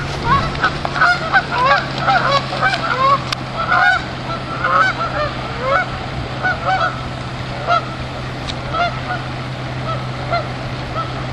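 Geese honk repeatedly and loudly by a river while a coyote raids their nests, with overlapping calls in irregular bursts over a steady low hum and wind.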